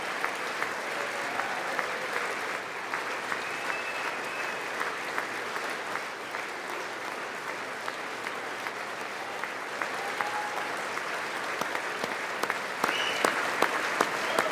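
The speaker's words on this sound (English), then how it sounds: "we are clapping for a long time, aren't we?" Long, sustained audience applause at a State of the Union address rolls on evenly for well over ten seconds, dense and continuous with scattered sharper claps and no talking.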